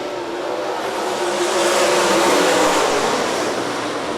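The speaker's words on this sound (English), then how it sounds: "Heat race number 3 for the MSTS sprint cars working themselves in the starting zone." MSTS sprint cars race at Rapid Speedway during a heat, their engines a loud, continuous roar that swells and fades slightly as they pass, with no talking.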